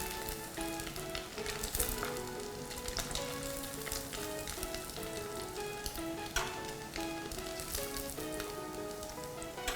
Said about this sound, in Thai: ทอดให้สุกนะคะ คอยดู ให้สุกทั้งสองด้านแล้วเราก็ตักขึ้น